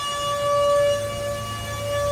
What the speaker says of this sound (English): there goes the tornado sirens